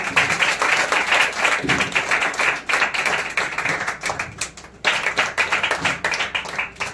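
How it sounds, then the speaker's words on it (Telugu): A congregation at a Christian sermon bursts into dense, steady applause that lasts several seconds, with brief dips in loudness before it resumes. "తెలుసుకుంటే ఒకసారి క్లాప్స్ కొడదామా?"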